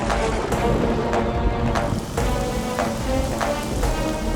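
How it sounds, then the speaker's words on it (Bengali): A cartoon rain effect pours as a loud, continuous downpour hiss, punctuated by several sharp crackling bursts every half second or so, with no voices. "বৃষ্টি, বৃষ্টি, বর্ষিত হও,"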